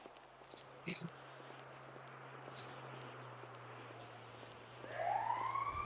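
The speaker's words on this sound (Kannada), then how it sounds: "ಬಂತು ನೋಡ್ರಿ ಆಂಬ್ಯುಲೆನ್ಸ್" An ambulance siren in a GTA roleplay game swells in near the end as a rising, wailing tone, following a quiet stretch with soft game sounds and a voice talking.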